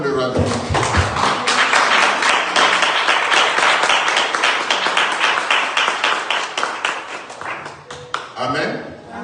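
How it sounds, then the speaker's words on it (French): A church congregation applauding and cheering during a worship service, a dense, loud, sustained wash of clapping and voices that holds steady for most of the stretch before tapering slightly near the end. "Acclamons pour le roi de Dieu."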